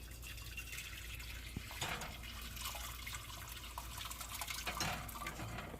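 Boiling water splashes and trickles steadily into a pan placed underneath to make steam for baking sourdough, a light continuous pouring sound with a few sharper splashes, no voices.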